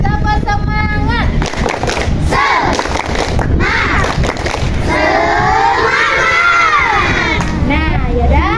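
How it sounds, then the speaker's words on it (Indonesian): Schoolchildren in a combined-grade classroom shout a rhythmic 'tepuk semangat' cheer, loud and close, many young voices chanting together over a steady crowd din. "Mari kita tepuk semangat lagi. Tepuk semangat."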